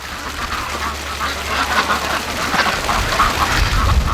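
Frightened free-range ducks run and quack in a steady stream of close, overlapping calls that grow louder toward the end, over a low rumbling background.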